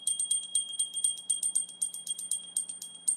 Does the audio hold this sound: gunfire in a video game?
no